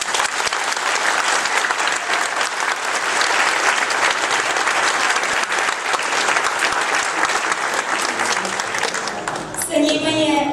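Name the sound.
audience applause for the Pčelica choir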